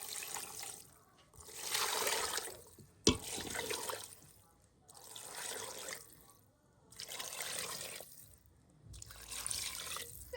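Tap water running into a pot in bursts for homemade chicken stock, a soft broadband trickle that starts and stops several times, with one sharp knock partway through and no talk.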